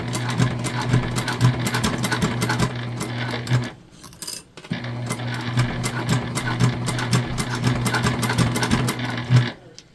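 A sewing machine runs in two long bursts, stitching a top-stitched strap through four layers of vinyl, with a steady mechanical whir and clicking needle strokes. A short pause comes between the bursts.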